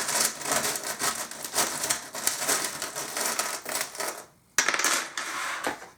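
Small metal charms handled and dropped onto a surface make a steady, busy clinking and rattling clatter at close range, with a brief pause before the jingling resumes, and no voices.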